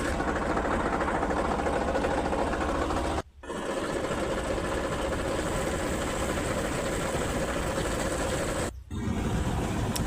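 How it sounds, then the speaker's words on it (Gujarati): A tractor engine runs in a steady, loud drone with a fast mechanical chatter, broken by two brief dips, one at about three seconds and another near nine seconds, where it almost drops out before resuming. "કરી નાખ્યું ટ્રેક્ટર ચાલુ।"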